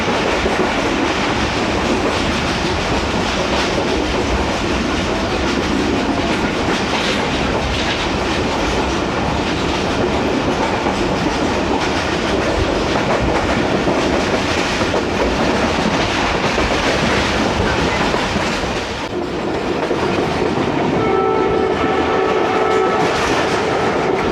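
Awam Express passenger train rolling through a railway station in Pakistan, with steady loud rumble and rail clatter throughout, close by, a horn-like tone near the end.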